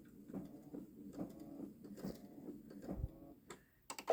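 A Babylock Solaris Vision embroidery machine stitching a butterfly onto a stretchy sweater, giving a quiet, steady rapid ticking patter of needle strokes at low level, with a brief louder clatter near the end.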